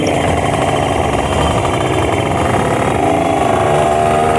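A motorcycle engine roars steadily at high speed with loud, continuous wind-buffeted drone throughout the ride, no pauses or talk.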